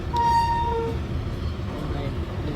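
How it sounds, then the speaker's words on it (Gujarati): A train horn blares with a steady high tone near the start, then fades while a low rumble of rolling rail cars continues throughout, near a level crossing. "અહીંયા ટ્રેન આડી પડીથી આવી ગઈ છે ત્યારે"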